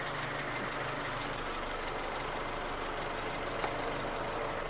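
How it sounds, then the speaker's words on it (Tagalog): A car engine idles with a rough, shaking vibration, a low steady rumble and hum heard faintly and continuously, with one brief click near the end. "nakita ko visually yung andar, yung panginginig ng makina"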